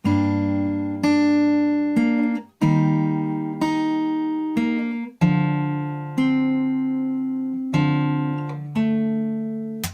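An acoustic guitar plays the verse of a song from The Last of Us, strumming chords in steady measured strokes, each ringing and fading before the next, close and clear with no voice.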